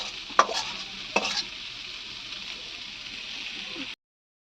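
Kalmi greens (water spinach) stir-fry in a pan with a soft steady sizzle and two brief scraping stirs early on, fairly quiet and close, ending abruptly.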